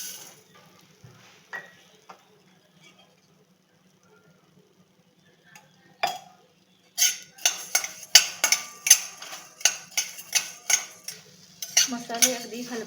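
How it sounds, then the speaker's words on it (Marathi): Coriander seeds roasting in oil in a pan, heard as soft clinks of a spoon against the pan followed by a steady run of scraping, stirring and light sizzling, close and moderately loud with no speech. "धणे भाजून घेऊया."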